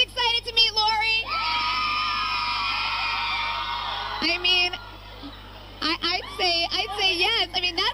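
A crowd of excited girls screaming and cheering on Long Island to welcome Olympic gymnast Laurie Hernandez: a long, loud sustained high-pitched shriek after a bit of talk, then more whoops and excited voices as people speak.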